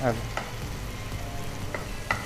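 Tomato and onion fry in hot oil with a close, steady sizzle, broken by a few sharp clinks of a stirring spoon against the pan.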